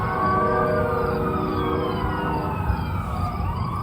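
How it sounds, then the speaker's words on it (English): Emergency sirens wail continuously, several overlapping tones rising and falling at a distance over a steady background rumble. "It seems like there's always sirens going on when I'm making my videos here."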